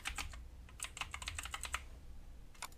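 Quick bursts of keystrokes on a computer keyboard, close and fairly quiet, with a short pause before a final few taps.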